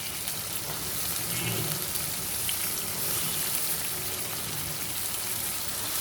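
Water lily stems sizzle in mustard paste in a pan, giving a soft, steady hiss like light rain that holds evenly throughout, faint and close, with no talking.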